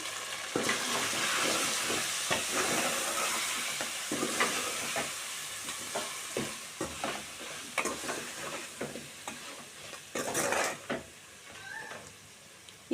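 A spoon stirs salt into a drumstick and chicken curry in a sizzling pan, with repeated scraping strokes over a steady frying hiss that grows more broken and uneven toward the end.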